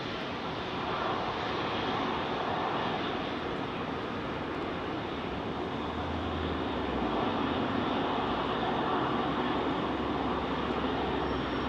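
Jet airliner engines spooling up for departure at London Heathrow, roaring steadily and broadly, a loud continuous rushing drone with a low rumble swelling slightly toward the end, no voices.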